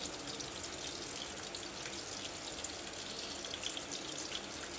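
Breaded chicken nuggets, coated in flour, egg and breadcrumbs, shallow fry in a pan with a soft, steady, even sizzle and no talking.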